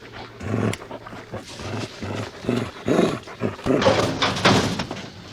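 A dog growls and snarls in short, rough bursts, close and fairly loud, with a brief louder flurry toward the end.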